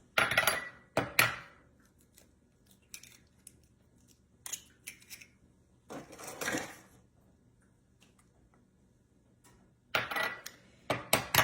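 Three room-temperature eggs cracked one after another on a kitchen counter, each a sharp, brief crack with a short rattle of shell, separated by quiet pauses and fairly close.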